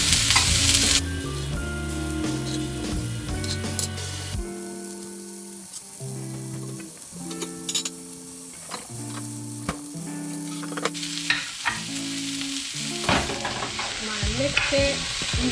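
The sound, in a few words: eggs, broccoli and onions frying in a pan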